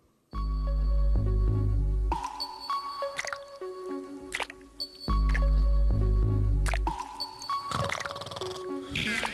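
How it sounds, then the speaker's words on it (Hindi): Cartoon water drips into a bowl in a Stone Age cartoon, with a few heavy, resonant plops and splashes ringing out in a loud, rhythmic sequence, alone without speech. "ये कटोरा पानी से भरकर भारी हो जाएगा"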